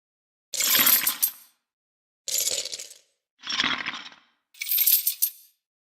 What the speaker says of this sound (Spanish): había grabado una máquina de contar monedas del banco